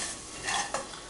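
Garlic and onions sauté in oil with a soft, close sizzle, while a utensil scrapes and stirs them in quick strokes over about a second, with no voices.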